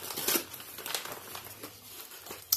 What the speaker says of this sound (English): I am going to open this package and let's just see what's in it